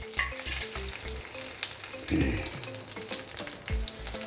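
Dried red chilies and curry leaves frying in hot oil with cumin, making a loud, steady sizzle as they are stirred, with a brief stronger burst of scraping midway, close and without talking.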